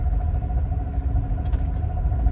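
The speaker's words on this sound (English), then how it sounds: "So this train is rocking all the way." Low, continuous rumble of a sleeper train from Örebro to Östersund, Sweden, heard from inside as it rocks along, with faint creaks and rattles over the steady drone.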